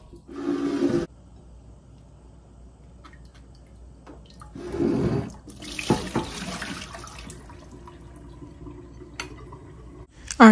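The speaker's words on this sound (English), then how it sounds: "I strained it and I rinsed it with cold water, and then I let it sit in cold water for about 20 seconds" Cold tap water runs into a sink to rinse strained brown sugar boba, with a loud burst of flow at the start, another around the middle, and scattered splashes and clatter between them, no voices.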